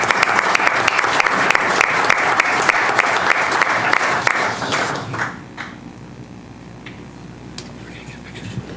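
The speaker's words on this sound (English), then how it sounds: "Clap for him." Audience at a city council meeting breaks into loud, close applause that holds for about five seconds, then thins to scattered claps and murmuring voices nearby.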